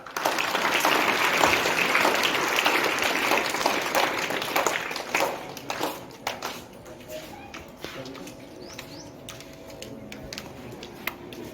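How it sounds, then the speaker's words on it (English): Applause for prize winners at a school morning assembly and certificate distribution: a loud, dense crowd of clapping for about six seconds that thins into scattered claps as it fades. "Everyone, give the big clap to winners."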